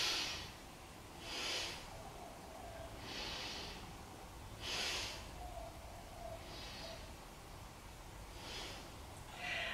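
Breaths drawn slowly and softly while holding a yoga horse stance, about six faint airy swells of inhale and exhale spaced evenly, quiet and without talk.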